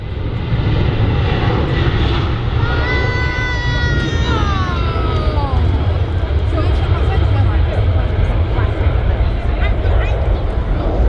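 A Ryanair Boeing 737 taking off from the runway at Manchester Airport, its jet engines a loud, steady roar with rising whine tones that sweep and shift as it accelerates, heard with people talking over it.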